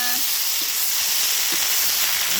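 Shredded cabbage stir-fried with garlic in a hot pan, giving a steady, loud sizzling hiss throughout with no talking.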